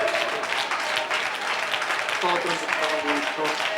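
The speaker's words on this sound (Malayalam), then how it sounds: "കൈയടിക്ക് സഹോദരി, കൈയടിക്ക്, കൈയടിക്ക്" An audience at a church fasting prayer meeting claps steadily throughout, a dense wash of applause with a voice speaking over it near the end.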